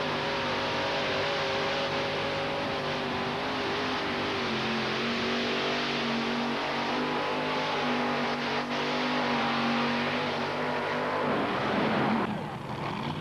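Mini rod pulling vehicle engine at a 1988 NTPA tractor pull in Syracuse, a loud, sustained, rising roar with layered harmonics that holds steady for most of the run before tailing off near the end.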